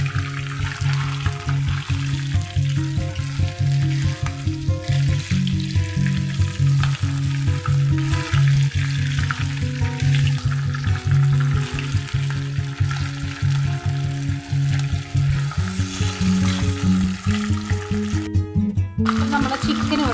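Chicken pieces fry in oil in a pan, a loud, steady sizzle and crackle that continues throughout, with soft background music playing along.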